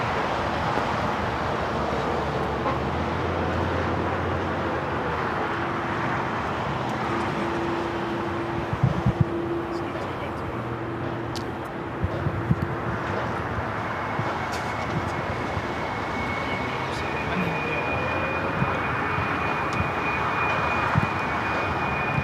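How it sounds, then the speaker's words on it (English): Aeromexico jet rolling down runway 24 Left on the north side of LAX for departure to Mexico City, a sustained engine roar with rising whine tones and a few sharp clicks and knocks from nearby, heard alone. "Air Mexico zooming along on the 24 left there on the north side."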